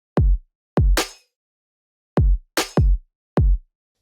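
Punchy electronic drums from an FL Studio beat: deep booming kicks spaced irregularly, with a couple of bright snare or clap hits between them, loud and alone.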